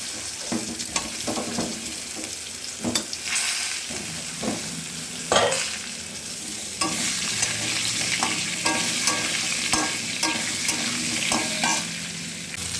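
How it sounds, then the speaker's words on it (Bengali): Oil sizzles steadily as potato and green banana fry in a pan, with occasional stirring scrapes and clinks throughout; no voices. "আলু আর কাঁচকলাটা ভেজে নিচ্ছি"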